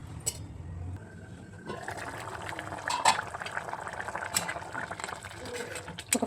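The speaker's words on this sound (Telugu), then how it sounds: "ఒక 5 మినిట్స్కి ఇట్లా వాటర్ అయితే మరుగుతుంది" Water coming to a boil in a covered pot of egg curry, a steady bubbling simmer with soft liquid pops and occasional light clinks of cookware, close and moderately quiet throughout.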